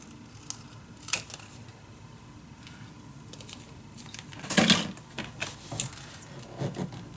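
Scissors snip paper for a scrapbook page, a handful of faint, scattered crisp cuts with one louder rustling cut near the middle, quiet and without talk.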